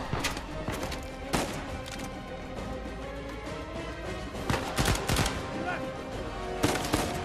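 Gunfire in Uncharted 4, a third-person action video game: repeated automatic bursts and sharp single shots over a dense layer of game ambience, with a few loud cracks standing out near the start and end.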